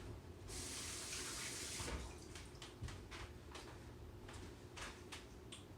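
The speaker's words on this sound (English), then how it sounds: "gotta wash my hands." Hands being washed under a running kitchen tap while cooking, a steady broadband rush of water for about a second and a half followed by uneven splashing and dribbling, fairly quiet and without talk.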